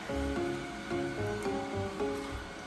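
A steady mechanical whir with a rhythmic, repeating hum from a robot vacuum rolling nearby indoors, no talking.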